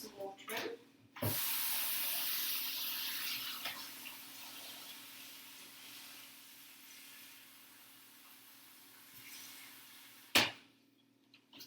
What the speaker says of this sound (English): You can pop some water in.